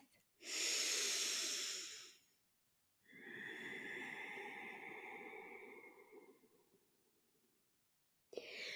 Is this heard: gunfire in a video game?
no